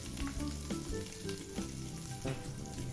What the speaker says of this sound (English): Going to add the sausage, break it up with a spoon. Going to brown it.